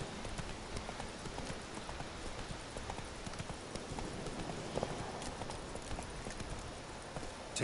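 Roach the horse's hooves clip-clop steadily in The Witcher 3, a quick, even galloping rhythm that runs throughout at a moderate, slightly distant level.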